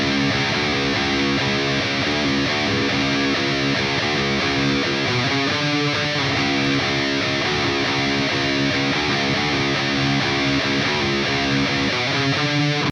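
Distorted electric guitar plays a song's riff at a slowed tempo, moving high up the fretboard, loud and dense with chugging palm-muted rhythm and no talking over it.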